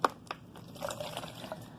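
Liquid poured into a container during a classroom states-of-matter demonstration, heard as soft, quiet splashes and gurgles with a few brief knocks from the container, all fairly close.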